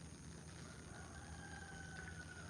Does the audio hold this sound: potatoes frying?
no